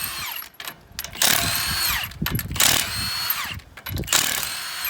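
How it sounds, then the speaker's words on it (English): An impact wrench removes the lug nuts from the rear wheel of a 2012 Scion tC, giving several loud whirring, rattling bursts broken by short pauses. "You got access to an impact wrench, it's a lot easier."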